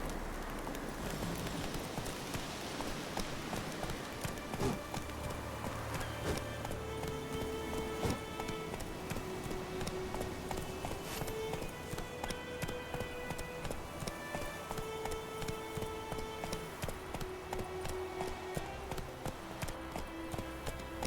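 Continuous rhythmic hoofbeats of a galloping horse in The Witcher 3, steady and fast, layered with game music and ambient effects throughout.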